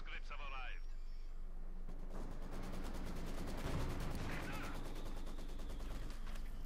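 Rapid machine-gun fire from a Maxim in the strategy game Company of Heroes 2, dense repeating bursts layered with other battlefield gunfire under a commentator's continuous talk.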